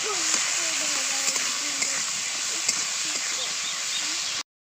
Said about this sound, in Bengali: ছোট ছোট বেগুন সাদা সাদা একটু লবণ সামান্য একটু হলুদ গুঁড়ো ভালো করে ভেজে নেব